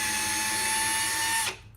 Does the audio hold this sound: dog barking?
no